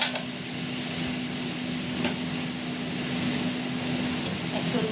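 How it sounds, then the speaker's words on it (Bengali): Spice paste (masala) for a spicy Bengali fish curry fries in oil in a pan while being stirred, giving a steady, dense sizzle with soft scraping throughout. "মশলাটা কষা হবে।"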